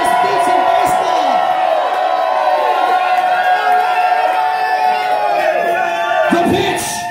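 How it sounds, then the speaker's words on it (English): A large baseball stadium crowd roars and cheers continuously as a runner tries to steal home late in the game, a loud sustained wall of voices with shouts and whoops rising over it. "The crowd begins to roar as Benny attempts one of the rarest beats in baseball."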